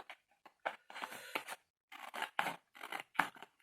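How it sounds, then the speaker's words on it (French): Scissors cut through scrapbooking paper up to the middle fold while making a large ribbon box, giving a series of close, crisp snipping and rasping strokes in uneven bursts separated by short silences. "je vais couper jusqu'au trait du milieu, jusqu'au pli du milieu"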